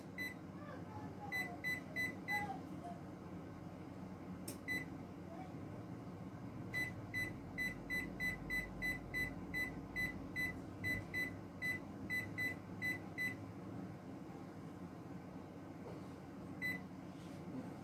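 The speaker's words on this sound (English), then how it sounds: "And then you're going to set your timer for 15 minutes." Kitchen timer set for baking, a series of faint electronic beeps in short regular groups over a low hum of room noise, with quiet background sound between the groups.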